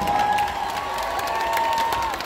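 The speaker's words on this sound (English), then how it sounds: "Let's give them a big round of applause" A crowd at a team competition summit applauds, a broad steady wash of clapping with some cheering mixed in and a faint sustained tone running underneath.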